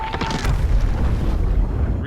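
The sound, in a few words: explosion in the Aquaman movie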